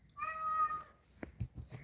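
A house cat lets out one clear, drawn-out meow up close, followed by a few faint clicks and light rustling noises in a quiet room.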